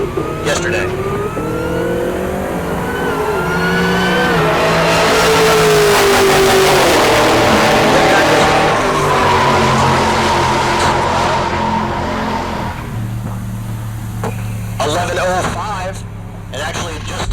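A Camaro drag racing in the 10.0 class at Heartland Park Topeka, its engine revving loud and rising through gears over a commentator's voice, then dropping to a steady lower drone near the end.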